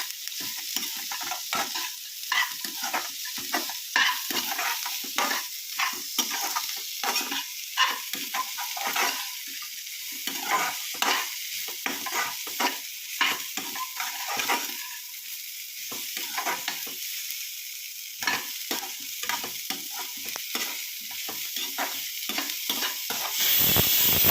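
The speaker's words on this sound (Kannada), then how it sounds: "ಈರುಳ್ಳಿ, ಬೆಳ್ಳುಳ್ಳಿ, ಶುಂಠಿ, ಕೊತ್ತಂಬರಿ, ಮೆಣಸು, ಮೆಣಸಿನ್ಕಾಯಿ, ಗೋಡಂಬಿ ಇಷ್ಟು ಐಟಮ್ನ ಸ್ವಲ್ಪ ಎಣ್ಣೆ ಹಾಕ್ಬಿಟ್ಟು ಚೆನ್ನಾಗಿ ಹುರ್ಕೊಳ್ತಾ ಇದ್ದೀನಿ" Onion, garlic, ginger, coriander, pepper, green chillies and cashews fry in a little oil, giving a steady loud sizzle broken by frequent scraping stirs throughout, with no voices.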